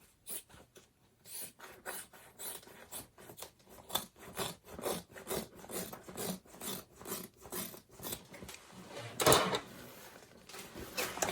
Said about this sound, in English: And trim down my seam allowance.